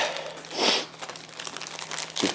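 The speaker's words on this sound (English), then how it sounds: "let's go ahead and open this bag up to the cord" A plastic bag holding a Lightning charger cable crinkles and rustles up close as it is opened, with a louder crumpling burst early and another near the end.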